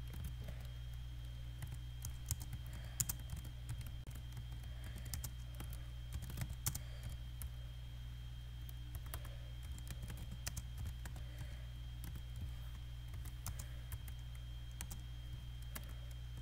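Rapid, uneven clicking of keys on a computer keyboard continues in bursts over a steady low electrical hum, close up but fairly quiet.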